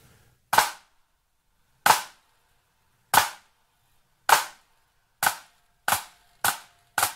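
Eight crisp, tight drum flams crack out alone and up close, the grace note and main stroke landing almost as one, spaced at a slow pulse that quickens toward the end.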